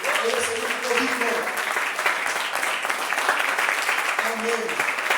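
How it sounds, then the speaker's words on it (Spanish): A church congregation applauds loudly and continuously, a thick wash of clapping with voices murmuring and calling out underneath throughout. "Denle un aplauso al Señor."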